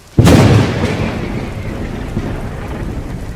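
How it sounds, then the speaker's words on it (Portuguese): A sharp, loud thunderclap breaks in and rolls into a long, deep rumble over steady rain pouring down. "Trovão caindo, aparentemente desconectado das salvas de relâmpagos."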